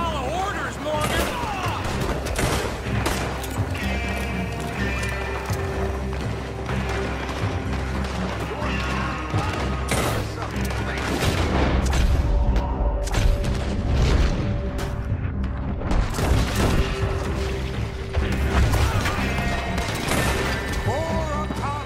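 Gunfire erupts in the Western game Red Dead Redemption 2 during a shootout with an oil wagon nearby, with dense, repeated booming shots and crashes running throughout under shouted voices and music.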